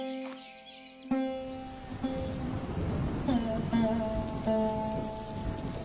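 Heavy rain in a storm, a steady broadband wash with a soft thud near the start, alongside sustained tonal music or voice lines throughout.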